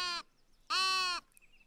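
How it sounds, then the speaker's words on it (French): A sheep in the video game Tiny Glade bleats twice, close and clear: a short call, then a longer, wavering one, with near silence between them. "Salut, petit mouton."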